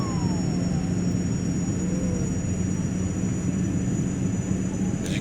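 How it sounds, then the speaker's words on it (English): A Saab 340 turboprop in X-Plane 11 spools up, a steady, droning engine roar with a thin high whine riding on top, holding level and unbroken throughout. "As you can see, that engine is still coming up, stabilizing."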